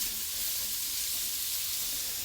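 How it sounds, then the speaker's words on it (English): Onions sauté in butter in a pan, giving a steady, soft hiss of sizzling that carries evenly on its own without any talking. "That's the actual sound of a sizzle with butter."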